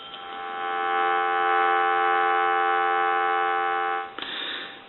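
Telephone dial tone from a brass Touch Tone phone, a steady, even electronic hum held for about four seconds before a brief click and a change in tone.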